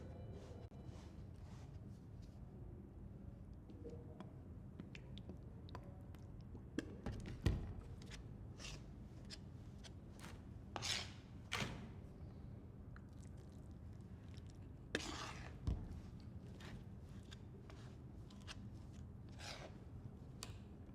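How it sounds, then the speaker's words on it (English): Spatulas work a material mixed with distilled water in a civil engineering lab, giving soft scraping and squishing strokes with occasional sharper taps, fairly quiet and steady throughout with no talking. "And I'll mix using my spatulas."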